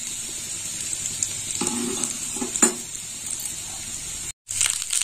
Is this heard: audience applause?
no